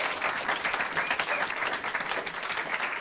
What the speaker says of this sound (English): Ryan, stand up so everyone can give you a clap.